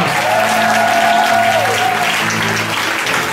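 A church congregation at a Sunday worship service applauds steadily for several seconds, a dense, loud wash of clapping filling the room with a faint murmur of voices beneath.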